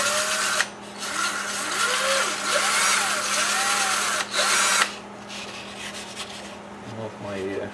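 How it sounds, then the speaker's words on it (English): A rotary tool with oiled sandpaper grinds steadily on a Maytag engine part during a rebuild, loud and close with a rising and falling rasping whine, then eases into lighter scraping. "I'm going to put a little oil on this sandpaper too."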